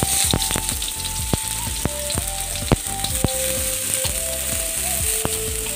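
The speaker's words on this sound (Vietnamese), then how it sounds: "mình phi cho thơm nha các bạn" Loud sizzling of minced shallots frying in hot oil, with crackles and pops scattered throughout and no talking.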